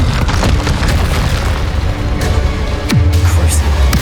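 Spell blasts from Confringo and Bombarda go off in Hogwarts Legacy as heavy, booming explosions, loud and continuous with a deep rumbling tail and a spoken voice over the blasts.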